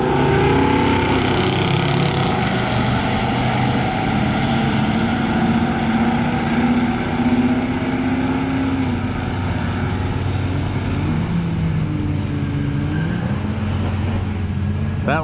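Drag racing cars launching down a slick left lane, a loud sustained engine roar with wavering pitch as tires spin, continuous and dense throughout with a crowd-like wash beneath.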